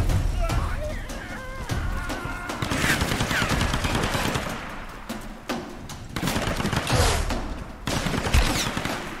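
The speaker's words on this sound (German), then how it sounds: "Ich sehe nicht mal von wo aus die Schüsse kommen." Gunfire crackles in the Tomb Raider video game, with repeated shots and rapid bursts scattered across a dark scene, mixed with game effects and someone talking over it.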